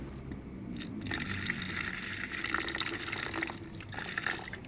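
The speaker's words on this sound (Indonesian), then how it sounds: "Oke, saya langsung kasih HCl dulu." Hydrochloric acid is poured onto RAM chips, a steady soft liquid pour and fizzing trickle running continuously at low level with no talk.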